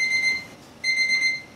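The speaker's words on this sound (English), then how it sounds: "The timer's going off again." An oven timer going off while roasting stock: a bright, high electronic beeping tone sounding twice with a short pause between, moderately loud over a quiet room, no speech.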